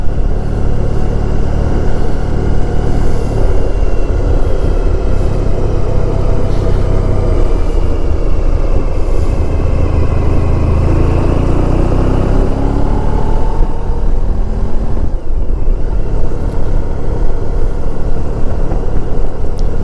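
A 1994 Honda ST1100 motorcycle on an open road, its engine humming loud and steady under heavy rushing wind noise throughout, with no break in the drone.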